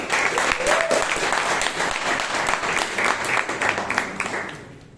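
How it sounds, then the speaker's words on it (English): A meeting audience at a Toastmasters club in Bangalore gives a dense, steady round of applause for the speakers, holding loud throughout before fading at the end. "A huge round of applause to our table topics master and to every speaker who just spoke on stage."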